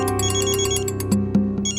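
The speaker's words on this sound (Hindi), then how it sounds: "क्या बात है मिस्टर विवान, ऐसा कौन सा जरूरी फोन कॉल है जो आप थोड़ा रुक नहीं सकते?" A mobile phone ringtone rings in a scene from a Hindi crime drama. It plays as a short, loud, repeating melodic tone pattern with brief chiming accents near the end.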